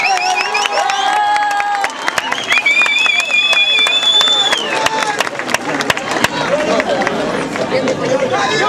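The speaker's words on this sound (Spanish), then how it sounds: "Nuevamente, fuerte el aplauso" An audience at a municipal cultural event breaks into a dense burst of applause and cheering, the crowd noise swelling as a fading tone passes beneath it.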